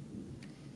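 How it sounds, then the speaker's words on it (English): Thunder rumbles low and steady through rainfall, a soft continuous roll with a faint hiss of rain, distant and without voices. "I love the thunder."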